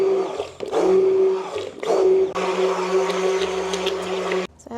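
Soap batter with oatmeal and clay for a lavender oatmeal soap gets mixed, giving a loud, steady motor whir with a strong hum that runs nearly five seconds and cuts off at the end.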